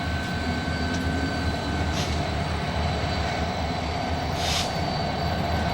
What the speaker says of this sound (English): As trains approach the Conway Yard